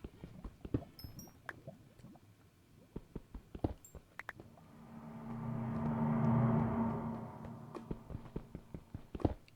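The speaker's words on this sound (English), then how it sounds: "I guess there's a thunderstorm going on up there" A distant thunderstorm in Minecraft rolls in as a low rumble that swells midway and fades, heard from underground amid scattered clicks and small ticking sounds.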